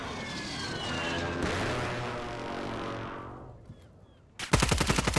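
Call of Duty gunfire: a sustained burst of rapid shots fades into a droning tail, then a sharp new volley of quick, loud shots starts abruptly.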